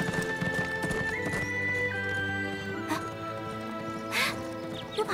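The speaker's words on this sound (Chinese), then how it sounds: "有马蹄声。" Horse hooves clip-clop in a historical Chinese drama scene, a quick rhythmic clatter of hoofbeats heard fairly close, with a short horse whinny and other background sounds mixed in.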